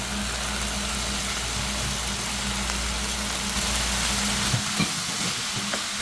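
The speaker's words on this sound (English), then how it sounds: "Mix well on moderate flame." Spices including cumin powder, crushed chili, mustard powder and paprika stirred and frying in a pan over a moderate flame, a steady close sizzle with scraping stirs and a low hum underneath, stirring knocks near the end.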